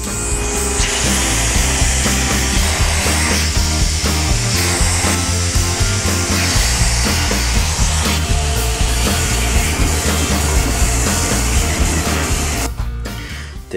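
A Bosch PEX 400 AE random orbit sander runs with a loud, steady whir that holds nearly unbroken for the whole stretch before cutting off at the end.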